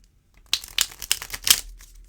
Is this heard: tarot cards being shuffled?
yes